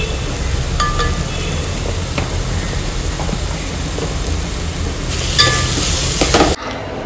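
Onion, garlic paste, tomato and Everest pav bhaji masala frying in a pan, a dense, steady sizzle with occasional stirring clatter that cuts off abruptly at the end.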